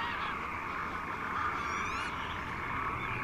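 Dense chorus of frogs and amphibians calling from a flooded night marsh, with geese and other waterfowl honking among them; a steady, continuous wall of croaks and calls at moderate distance, with no talk.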